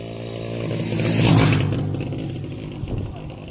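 A motorcycle engine nearby rises in a swell of revving then settles to a lower running rumble, with people talking over it.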